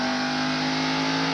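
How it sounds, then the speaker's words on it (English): Jeff Burton's Ford stock car at a NASCAR Busch Series race, engine droning loud and steady at high revs throughout, no voices heard. "To Jeff Burton on the throttle of his track gear Ford."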